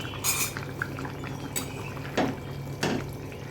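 A pot lid lifted off a simmering jackfruit kofta curry, with a few metallic clinks and knocks and a soft bubbling background, fairly close and moderately loud, with no speech.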